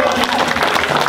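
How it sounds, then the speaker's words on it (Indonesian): Applause from a festival crowd at Batfest 2022 in Batulicin, a dense steady patter of clapping lasting about a second, close and fairly loud, with a voice mixed in. "Tepuk tangan untuk teman-teman yang ada di sini semua."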